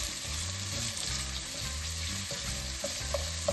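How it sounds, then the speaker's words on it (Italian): Potatoes and onion sauté in a pan with a steady, close frying sizzle throughout, and occasional stirring scrapes drift in and out. "Imbiondita la cipolla, aggiungo le patate e lascio insaporire per qualche minuto."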